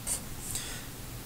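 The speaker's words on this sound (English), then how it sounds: "I'll write that right up here." Brief scratchy strokes of a marker or pen writing out a math equation, two quick squeaky marks close by over a faint room hum, no talking.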